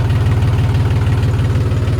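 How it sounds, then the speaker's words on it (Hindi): A tractor engine idles steadily in a field after ploughing, with a low, even, rhythmic chugging throughout and no talk. "और अब ट्रैक्टर को रोक देते हैं"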